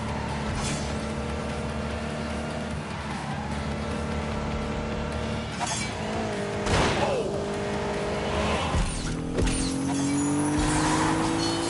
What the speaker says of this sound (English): V6 engine, 200 horsepower.